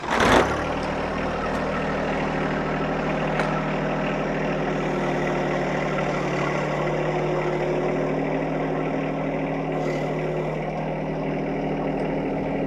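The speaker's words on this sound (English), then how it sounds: "turn on the tractor, back up, and we'll be good to go." A John Deere 1025R compact tractor engine rumbles steadily at idle for the whole stretch, loud and close, after a short burst at the very start.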